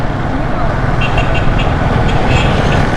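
Dense street traffic in the Saddar area of Karachi, Pakistan, produces a loud, continuous roar of engines and road noise up close, with faint horn-like tones rising briefly over the din.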